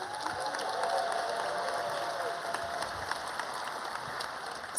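A crowd at a medical school white coat ceremony applauds and cheers, sustained clapping with a brief whoop early on, a large room of people at moderate distance.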